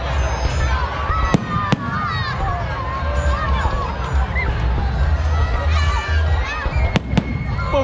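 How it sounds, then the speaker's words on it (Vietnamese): Fireworks bursting over a town square in Son La, Vietnam, with sharp bangs and crackles over a steady roar of a dense crowd, people chattering and calling out nearby throughout. "Bên này mới là pháo hoa, bên kia pháo bông."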